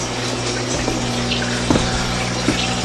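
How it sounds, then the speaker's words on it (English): A pond pump moving about 450 gallons an hour of water through a backyard fish pond system, a steady close hum with continuous gushing, trickling water and a few small splashes, no talking. "I have a pond pump right here that pumps 450 gallons an hour."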